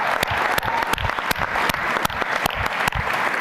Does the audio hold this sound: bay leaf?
no